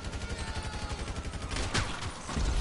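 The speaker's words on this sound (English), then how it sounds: "I know it's a machine gun still." A machine gun in a video game fires rapid, rhythmic bursts of shots close up, steady throughout, with a louder blast near the end.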